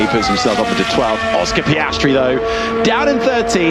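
A Formula 1 car driven by Stroll screams past in free practice at the Spanish Grand Prix, its engine note rising and falling through gear changes beneath continuous radio commentary.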